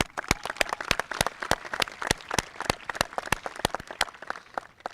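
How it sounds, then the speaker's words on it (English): An audience at a high school commencement claps for the teachers, a steady patter of many hands that holds at an even level from start to finish with no voices over it. "Round of applause for them."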